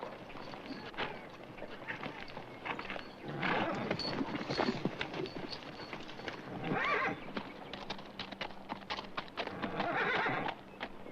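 Horses whinny and neigh loudly several times over steady clip-clopping hooves, with faint voices in the background, from the 1959 TV western Bonanza.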